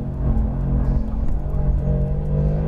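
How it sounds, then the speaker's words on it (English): The engine of a 2018 Mercedes-AMG GT R drones loudly and steadily at sustained speed on a racetrack, heard from inside the car with no talk. "Just great sounding engine in these cars"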